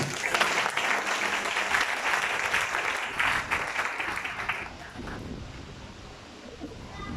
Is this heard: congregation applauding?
yes